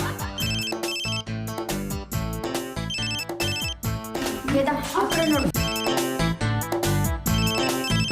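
A mobile phone ringtone plays loudly as a repeating electronic melody in a Kannada TV drama scene, with a short spoken line over it.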